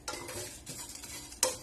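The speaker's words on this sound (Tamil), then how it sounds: "லோ ஃபிளேம்ல வச்சுட்டு இதை வந்துட்டு வறுத்துக்கோங்க" Coriander, fennel and cumin seeds are dry roasted in a pan over a low flame, with soft scraping stir strokes and light rattling and a sharper clink near the end, close and quiet with no talk.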